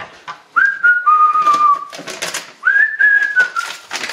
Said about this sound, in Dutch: Ik fluit bijna elke dag.